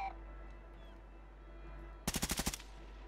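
A quick burst of about six sharp shots in a video game, loud and close, cracking out near the end after quiet background ambience.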